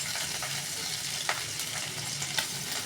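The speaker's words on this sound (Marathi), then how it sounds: "त्याच कढईमध्ये सर्वप्रथम आपल्याला आलं ॲड करायचं आहे." Ginger sizzles in hot oil in a kadhai already used for frying cabbage Manchurian, a steady bright crackle with a few sharper spits and stirring taps, close and alone.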